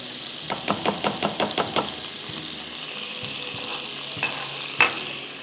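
Chopped onions frying in a pan, a run of quick sharp knocks and clatters from the spoon early on, then a low steady sizzle with a couple of isolated clinks near the end, no voices.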